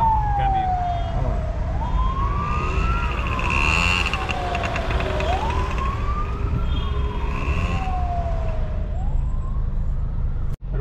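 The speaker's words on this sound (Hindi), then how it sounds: "नहीं ये पुलिस की गाड़ी है।" A police siren wails in long rising and falling sweeps, loud and steady over the rumble of traffic in Hamria, with no talking.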